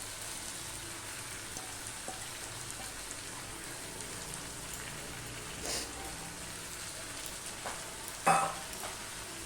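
Soaked lentils added to sautéed vegetables in a pan: a soft, steady, rain-like sizzle runs throughout, broken by a couple of brief utensil clacks near the end.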